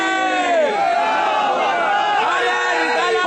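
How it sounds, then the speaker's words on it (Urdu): Large crowd at an Urs gathering chanting religious slogans in unison, many voices rising and falling together, loud and sustained throughout. "بہت دیر سے نعرے لگ رہے ہیں"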